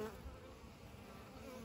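Guard bees buzz steadily at a hive entrance as they confront an intruding bee, a faint, continuous close-up drone with no voices.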